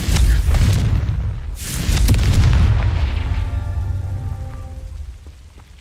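Confringo spell blasts in the video game Hogwarts Legacy: two loud, booming explosive bursts in quick succession, followed by a ringing, crackling tail that fades out.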